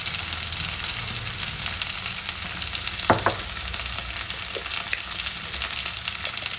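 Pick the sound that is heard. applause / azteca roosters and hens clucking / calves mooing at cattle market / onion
onion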